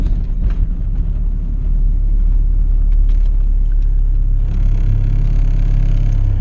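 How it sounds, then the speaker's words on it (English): A turbocharged Honda B18C1 engine in an EG hatchback revs hard with VTEC engaged, a loud, continuous, deep droning roar heard up close with the pitch holding steady and no talking. "now we're gonna turn VTEC on and see how VTEC is doing"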